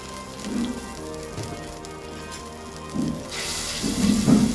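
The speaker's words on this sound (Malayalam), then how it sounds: "ഇത് നല്ലോണം തിളച്ചിട്ടുണ്ട്" Malayalam curry with buttermilk bubbling hard in a pan over a high flame, a steady crackling, rain-like hiss with a few louder bursts of bubbling near the end.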